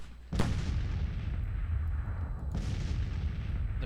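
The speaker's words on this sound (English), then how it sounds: "so far the artillery is working as intended" Artillery fires in a Civil War game on the Gettysburg map: a sharp, loud boom near the start, then a rumbling tail, and a second blast about two seconds later over a steady low background.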